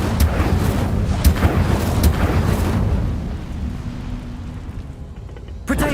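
A fiery Incendio spell cast in Hogwarts Legacy bursts loudly in a few rumbling, booming blasts, with a roaring tail that fades, then a fresh burst right at the end.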